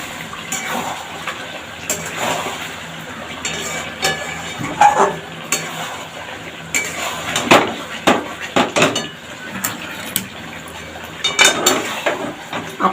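Chicken with meat masala is sautéed in a pan, with irregular clanks and scrapes of a utensil against the metal over a soft background, some strokes sharper and louder than others.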